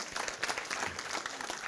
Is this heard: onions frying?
no